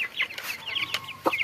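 Chickens cluck in quick overlapping bursts close by on a poultry farm, busy and lively with brief rustles and no talking.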